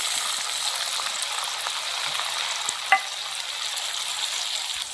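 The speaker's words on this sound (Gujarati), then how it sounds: "આપણે હવે ટામેટું નાખી દઈશું" Tomato drops into hot sesame oil and sends up a steady, loud, close hiss of frying, with one brief sharp click partway through and no speech.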